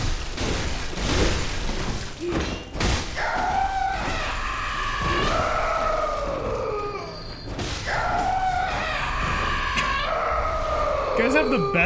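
Drawn-out enemy death screams in the video game Bloodborne, two long wailing cries with falling pitch, each following a sharp impact, loud over game noise.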